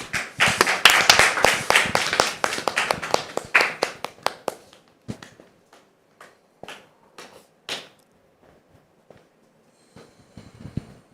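Applause from a small studio audience on a French television talk show as a guest is welcomed, a few seconds of brisk clapping that thins into scattered, isolated claps and then quiet.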